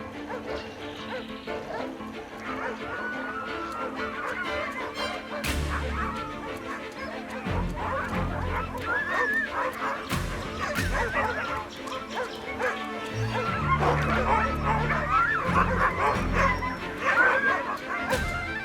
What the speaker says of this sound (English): Few people realize that domestic dogs are also hunters.